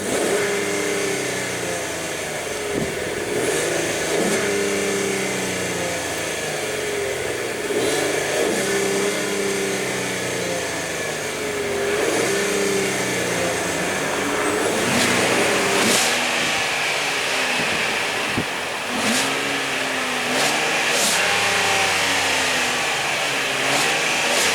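A 2015 Ford Edge with a 3.5-liter V6 revs repeatedly in close, steady blips. The engine climbs and falls in rhythm with a constant idle underneath, and no one speaks.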